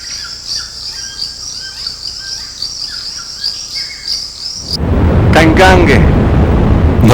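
Toucans and other birds call above the rainforest canopy amid a dense, steady chorus of insects, then a loud, broad rush of sound swells in under a few sharp calls.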